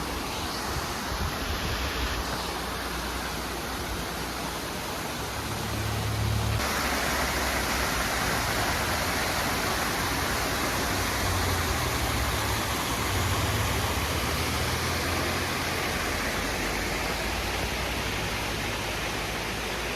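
A roadside waterfall near Linville Gorge sends up a constant rushing roar of falling water, close and loud throughout, swelling slightly after the first few seconds, with no voices.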